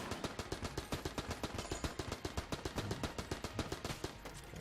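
A quick-firing weapon in the game Enter the Gungeon, letting out a rapid, even stream of sharp shots for several seconds. The fire is close and steady, with no speech over it.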